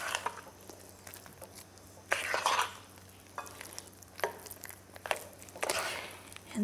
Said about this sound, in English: just mix everything in